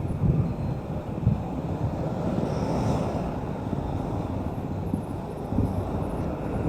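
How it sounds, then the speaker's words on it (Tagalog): Continuous heavy wind roaring and rumbling against the microphone on the zigzag road descent at Montalban, Payatas Road, with no voices, swelling slightly near the end. "Grabe hangin, lakas."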